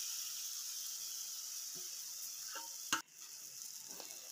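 Okra fries in a pan with a soft steady sizzle, broken by a few light stirring scrapes and one sharp clack of the utensil against the pan, with no talk.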